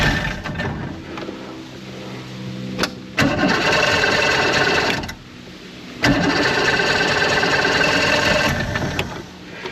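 A 1996 Force 120hp outboard motor cranks with a short burst, then catches and runs in two loud, steady stretches of rough, buzzing engine noise separated by a brief drop, close up and with no talk.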